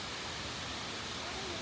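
The Shiraito no Taki waterfall in Japan gives a constant, dense roar of falling water, steady and enveloping, heard near at a campsite with no talk over it.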